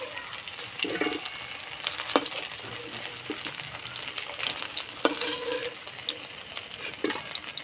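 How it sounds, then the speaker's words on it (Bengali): Spiced chicken fritters (boras) frying slowly in a little oil over low heat, an even, busy crackle with occasional louder pops and light clinks, close by and without talk. "আস্তে আস্তে জাল দিয়ে বড়াগুলো ভেজে নেব"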